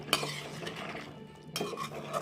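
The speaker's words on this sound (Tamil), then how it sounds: "நல்லா மிக்ஸ் பண்ணி விட்டுக்கலாம்." Coconut egg curry being stirred in a pot, with scraping and clinking of a spoon against the metal, soft sizzling underneath and a sharper clatter near the end.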